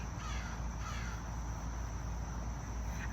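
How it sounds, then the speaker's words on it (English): A crow caws outdoors over a steady wash of background noise with a faint insect-like hiss, the calls blending into the ambience rather than standing out sharply. "And that was a crow."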